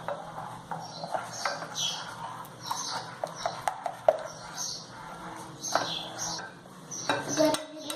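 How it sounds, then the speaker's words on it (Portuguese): A spoon scrapes and clinks against a bowl while stirring a microwaved brigadeiro mixture, producing irregular close taps and scrapes over a quiet kitchen background. "Agora a gente vai mexer bem e colocar por 4 minutos."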